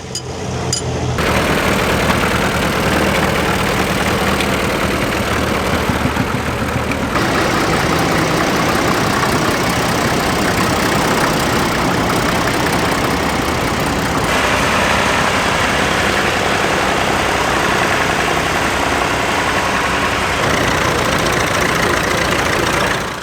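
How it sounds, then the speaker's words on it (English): A vintage grey Ferguson tractor, fitted with a banana loader, idles at a steam fair with a steady, loud, continuous engine rumble and knock running throughout, with no voices over it. "A very well presented grey Fergie with its banana loader and Ferguson muck spreader."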